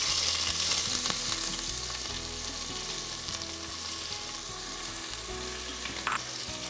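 Thinly sliced onions sizzle steadily in hot oil, a continuous crackling fry with occasional stirring scrapes, close and fairly loud.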